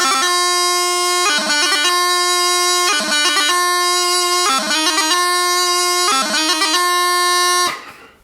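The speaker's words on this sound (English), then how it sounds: "When played on a well-tuned bagpipe at the end of a good Piobaireachd, it's a mesmerizing variation" Highland bagpipe plays a Crunluath A-Mach piobaireachd movement: a steady drone beneath a chanter repeating fast ornamented grace-note clusters in regular phrases, loud and close, ending with the pipes cutting out.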